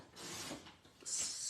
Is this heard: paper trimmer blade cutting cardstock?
yes